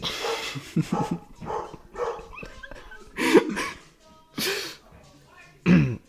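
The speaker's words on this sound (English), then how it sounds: "Mostly just the dog barks." A dog barks in a few sharp, separate bursts amid people talking, the barks fairly close and loud, with some coughing or throat sounds mixed in.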